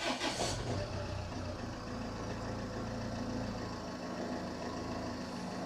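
Land Rover Freelander 2 engine starting, a brief cranking burst that settles into a steady, moderately quiet idle rumble.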